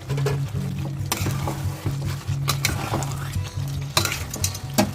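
Fried potatoes are stirred into a simmering Bengali chicken curry: a sizzling pan with repeated scraping spoon strokes and clinks against the pot, close and busy, with a few sharper knocks toward the end.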